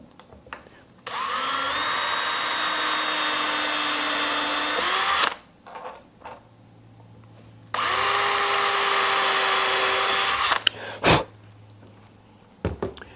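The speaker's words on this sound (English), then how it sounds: "I got a tiny itty bitty drill bit to drill the holes" Two whining bursts from a small power drill with a tiny bit drilling holes in an armoire, each running steadily for a few seconds, followed by brief clicks and handling noises.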